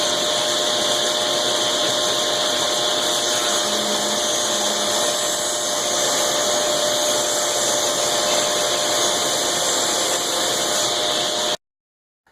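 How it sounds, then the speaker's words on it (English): A table saw drones loud and steady at close range while ripping a walnut accent strip for a baking board, holding an even whine for about eleven seconds before stopping abruptly. "I'm all set up to rip the walnut accent strip that goes in the middle"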